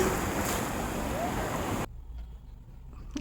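Steady broadband wash of ocean surf and wind noise on a Goa beach for about two seconds, then it cuts to a much quieter background.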